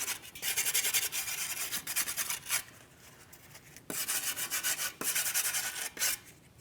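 Rag or brush scrubbing debris from the bearing seat on the backing plate of a Chevrolet Malibu front hub, in several firm rasping bursts of rubbing with brief pauses between strokes, close and alone.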